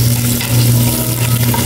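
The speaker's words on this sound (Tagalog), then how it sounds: "gisa natin yung bawang sa sibuyas" Garlic and onion sauté in a hot pan for a Filipino fish dish, a steady close sizzling and crackling with a low hum underneath and no talking.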